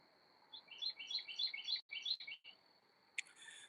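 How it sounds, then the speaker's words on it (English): Small birds chirping and trilling at dawn in a garden in quick overlapping phrases, fairly faint against a soft breezy background, with a brief sharp call near the end. "We're listening to the birds and the cool breeze."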